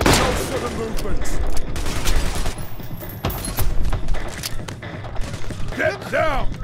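Heavy, sustained gunfire from a bank-robbery shootout in the video game Payday The Heist, with dense overlapping shots and impacts running throughout, loud and close, under shouting voices.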